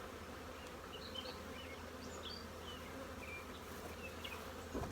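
Honey bees hum steadily around stacked beehive boxes at an apiary, a dense continuous drone with individual bees zipping past close by, no talking.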